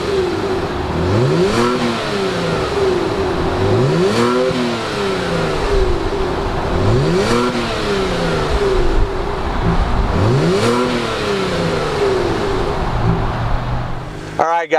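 A Genesis G70 3.3T twin-turbo V6 starts and is revved repeatedly, four rising-and-falling swells in a steady rhythm, loud and close, with no talk.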